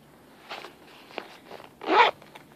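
A zipper runs along the top of a white pipe bag, with a few small rustles and tugs before one loud, quick, close zip pull near the end.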